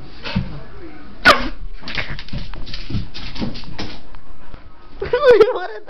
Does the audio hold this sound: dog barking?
yes